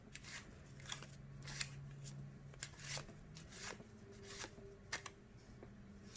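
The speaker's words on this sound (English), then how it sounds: "and you keep shuffling." Playing cards are shuffled overhand close by, with soft, irregular flicks and rustles as cards slip off the pack one after another at a quiet level.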